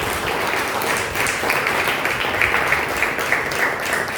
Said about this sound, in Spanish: ¿Cuántos damos un aplauso al nombre del Señor en esta mañana?